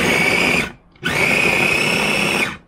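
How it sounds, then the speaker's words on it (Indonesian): Blender pulsing chili, garlic, shallot and tomato for a homemade chili paste, two loud close bursts of high motor whine separated by a short pause, no talk. "kita mau blender dulu ya"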